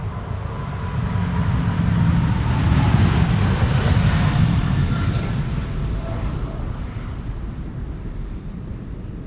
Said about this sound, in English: This is KLM flight 705, 777-200 to Rio de Janeiro.